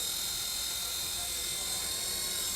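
A small Walkera X100 RC helicopter hovers indoors over a workstation, giving a steady, high-pitched rotor whine and buzz that holds constant from start to finish.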